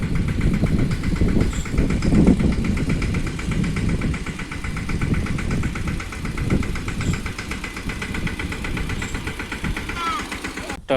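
A tractor loaded with a full trolley of brinjals runs with a low, steady rumbling engine close by, while people talk over it.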